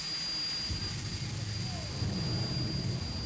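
A 1993 jet car engine starts up and runs, a steady loud whine with high tonal hums over a broad rumbling roar.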